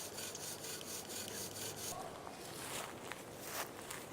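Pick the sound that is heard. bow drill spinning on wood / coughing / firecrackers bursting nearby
bow drill spinning on wood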